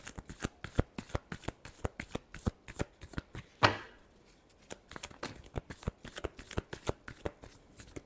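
Tarot cards being shuffled by hand in a rapid series of crisp, evenly spaced riffling snaps, close and clear, with a brief louder burst near the middle before the quick rhythm resumes; no one speaks.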